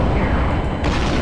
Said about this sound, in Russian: О, сейчас будет мега взрыв.